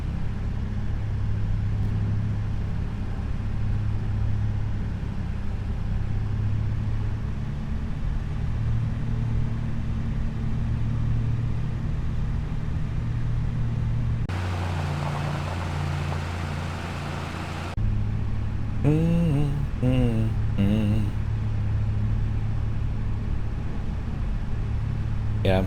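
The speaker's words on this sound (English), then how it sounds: "even though this car is extremely old, it's also extremely comfortable to drive" An old car from the game Farm Restorer drives along with a steady low engine drone and road rumble, continuous throughout, with brief talking near the end.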